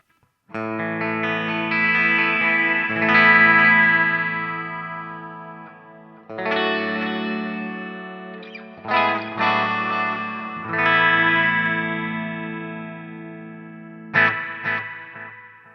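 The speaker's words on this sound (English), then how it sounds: "now you can hear as the repeats die out that they do get a little bit worse and worse as they go on" Distorted electric guitar runs through the analog delay setting of a Flamma FG200 multi-effect unit. Chords ring out and their echoing repeats grow darker and murkier as they fade, with no talking over the playing.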